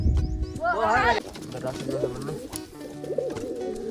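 Pigeons coo softly in a loft of pal and fantail birds, a few rolling calls heard up close beneath a voice talking over them.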